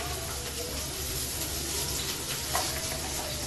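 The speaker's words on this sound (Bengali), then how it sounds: "আগে পেঁয়াজগুলো একটু ভেজে নিই" Onions frying in a pan, a steady close sizzle and crackle that carries on evenly throughout with no voices over it.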